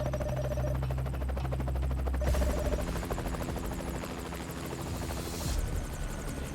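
A helicopter hovers close overhead over an open field, its steady rotor chop and downdraft roaring loudly and continuously, with a rough whoosh shifting partway through.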